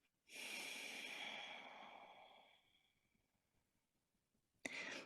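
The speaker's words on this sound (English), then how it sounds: "And close and exhale through the left." A long, steady exhale through the left nostril during alternate nostril breathing: a close, breathy rush that fades out over about two seconds, then near silence, with another short sharp breath at the end.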